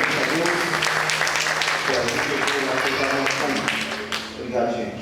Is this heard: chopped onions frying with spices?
no